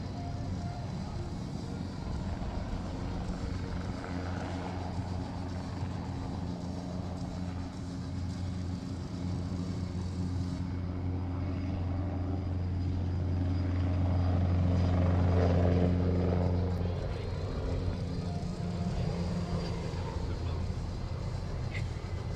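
Military helicopter hovering for a fast-rope troop insertion during a live-fire exercise: a steady, loud rotor drone with low throbbing that swells slightly midway, continuous and without talk.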